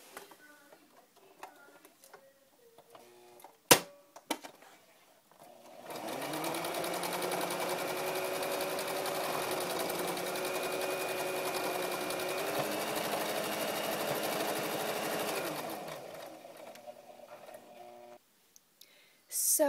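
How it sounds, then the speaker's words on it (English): A sewing machine stitches fuzzy fabric for a reborn pillow, running in a steady, rapid mechanical whir for about ten seconds after some handling clicks, then slowing to a stop; close and fairly loud. "So, I'm gonna sew it."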